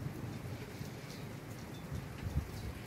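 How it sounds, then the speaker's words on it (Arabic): Heavy rain pours down in a dense, unbroken hiss with a faint low rumble underneath. The downpour is even and close, with no voices. "لقينا الشتا كتصب"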